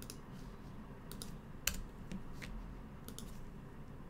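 Computer keyboard keys tapped while entering formulas in a Google Sheets spreadsheet, a few light, sparse clicks with one sharper keystroke, close by over a soft steady background hiss.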